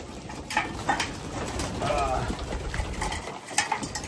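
Pigeons cooing in a breeder's loft, soft repeated coos under someone talking nearby amid steady background noise.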